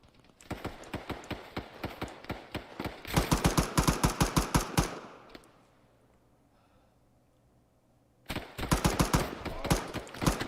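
Sustained automatic gunfire in an Arma 3 firefight, close and loud, with rapid bursts from about 0.5 to 5 seconds, a quiet lull, then fresh bursts after 8 seconds.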